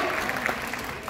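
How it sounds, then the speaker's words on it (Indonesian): Audience applause at an Indonesian motivational talk on ways of thinking: a dense, steady burst of clapping from a room of listeners that fills the whole moment without let-up. "Tepuk tangan dulu"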